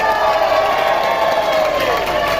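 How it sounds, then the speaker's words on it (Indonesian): A dense crowd at a regent and vice-regent candidates' debate in a hotel hall cheers and applauds loudly, a continuous wash of whoops and clapping with some voices mixed in. "Saya ingin mendengar tepuk tangan dari masyarakat Kabupaten Kutai Timur."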